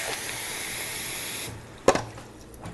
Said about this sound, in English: That's a cup of hot water.